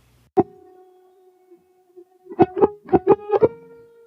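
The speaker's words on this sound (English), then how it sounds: "This is the residual component of the guitar recording." Thin, buzzy electronic-sounding residue of a guitar recording with the harmonics subtracted: one sharp pluck with a lingering tone, then a quick cluster of five or six choppy, noisy attacks.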